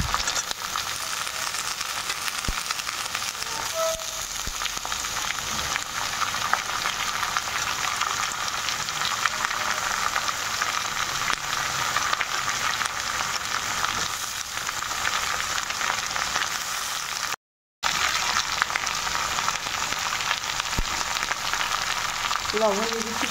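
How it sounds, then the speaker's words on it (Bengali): Eggplant and potato frying lightly in oil in a pan for a rural Bengali recipe: a continuous, even sizzle throughout, briefly cut by a moment of silence near the end. "হালকা ভেজে নিচ্ছি।"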